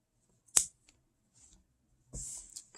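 Scissors cut crochet yarn while a Christmas wreath is being finished. One crisp, close snip is followed a moment later by a softer, longer cut, with near silence around them.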